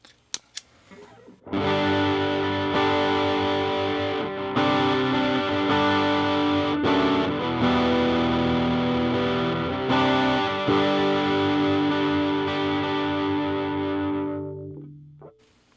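A distorted electric guitar through a Blood Oath pedal plays sustained chords and riffs, loud and saturated, starting after a brief pause and fading out at the end.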